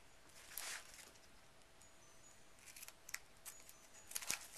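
Scissors snip paper for a handmade mini-album book spine, a few quiet separate cuts spaced irregularly with soft paper rustling between them, close and faint.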